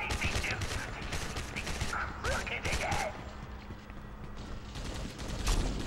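Gunfire in the shooter game Gotham City Impostors comes as a quick scatter of crackling shots over a dense, busy game backdrop, moderately loud, with a voice talking in places.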